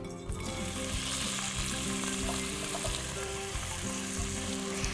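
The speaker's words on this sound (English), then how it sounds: "we get a nice sizzle when we add in our Maui onions" Maui onions sizzle steadily in hot oil in a pan, a continuous close crackling hiss that holds for a few seconds with no one speaking.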